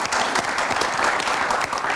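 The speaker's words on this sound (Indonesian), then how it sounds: "Kita tepuk tangan untuk Pak Maruf." Studio audience applause for a guest on an Indonesian televised talk show about police reform, a dense steady clapping that fills the whole short stretch at close range with no voices over it.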